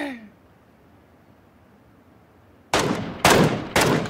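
Three sharp gunshot bursts in the battle royale video game PlayerUnknown's Battlegrounds crack out loudly after a stretch of quiet background hiss, each burst close and punchy.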